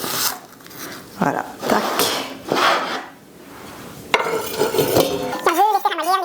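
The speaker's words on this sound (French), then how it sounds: "Je vais rajouter ça dans mon huile un peu chaude." After a few utensil clinks and scrapes, chopped onion drops into warm oil in a pan for a vegetarian chili, and a sudden sizzle rises. A person keeps talking over the cooking.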